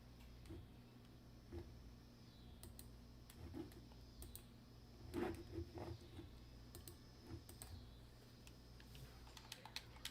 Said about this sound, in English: I've been typing on computers for just about every job that I've had since I was like 18